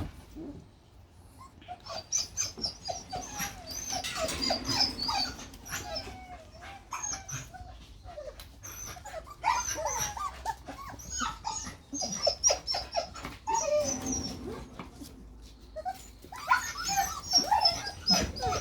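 Young Springer Spaniel puppies, three to four weeks old, whimper and yip in repeated high, thin bursts, close by, with short pauses between clusters and a faint low rumble underneath.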